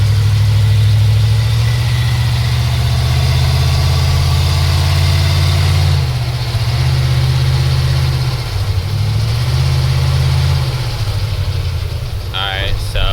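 A 1990 Ford E-150 Econoline van with a 5.8L V8 and E4OD transmission that won't shift into third or fourth, its engine running steadily with low rumbling drones that swell and shift in pitch as it revs, close and continuous.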